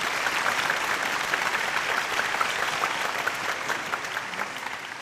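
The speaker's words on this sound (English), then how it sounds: "Another round of applause for fantastic performers." An audience at a school musical talent show gives sustained applause for the performers, a dense, even clatter of many hands clapping with no speech.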